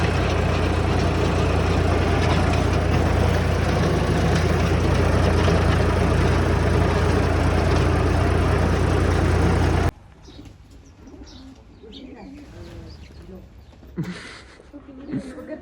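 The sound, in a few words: tractor engine idling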